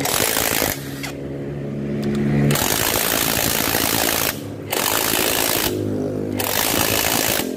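A pneumatic impact wrench hammering on the cylinder head bolts of a Yamaha Vixion engine, loud and close, in long sustained bursts broken by brief pauses.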